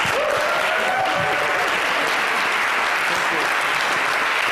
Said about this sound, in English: A big round of applause for Dan and Charissa Nielsen.